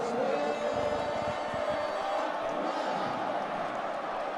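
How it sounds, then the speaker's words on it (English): A college football stadium crowd at a Gonzaga versus St. John's game roars in a sustained, fairly loud wave of cheering, with a broadcast commentator's voice faintly mixed in. "The crowd is getting into it."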